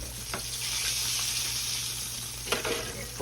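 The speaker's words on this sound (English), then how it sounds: "So yeah, we're gonna fry these all, move them around here." Breaded green tomatoes, southern style, fry in hot oil in a pan with a dense, steady sizzle close up, broken by a few soft scrapes and taps as the slices are moved around.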